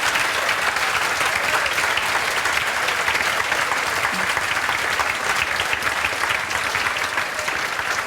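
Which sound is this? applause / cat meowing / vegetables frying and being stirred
applause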